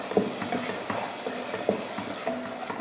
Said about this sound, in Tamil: இந்த மாதிரி அரைச்சி போட்ட வெங்காயத்துக்கு கூட நல்ல கலர் மாதிரி வரணும். அது போல் வதக்கிக்கலாம்